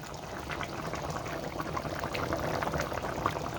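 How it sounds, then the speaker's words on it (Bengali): Chicken curry with added water bubbles on a high flame, a soft, steady simmering and popping that stays close and fairly quiet, with no voices over it. "এই এখন জল দিয়েছি, আর এটা চিকেনটা কিন্তু ফুটছে। আওয়াজ কি, হাই ফ্লেমে ফুটছে।"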